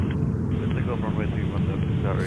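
A heavy airliner roars during takeoff at New York's JFK airport, the loud, continuous engine noise overlaid by voices talking.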